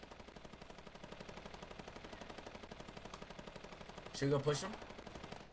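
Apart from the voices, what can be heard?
LMG machine gun firing in Fortnite video game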